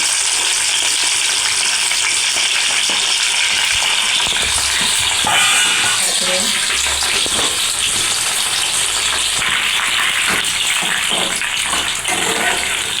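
Broad beans, pods left whole, fry in about 200 grams of oil in a pan, giving a steady, dense sizzle and crackle that runs the whole time with no talk over it.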